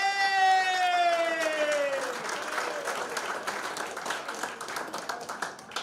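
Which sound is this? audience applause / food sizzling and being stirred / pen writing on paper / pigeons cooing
audience applause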